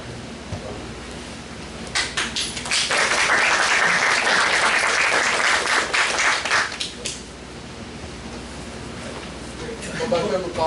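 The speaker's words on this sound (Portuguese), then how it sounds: "Estou batendo palmas" Audience applause in a Brazilian classroom-style session, a dense burst of clapping from about two to seven seconds that swells loud then fades, with talk and room noise before and after.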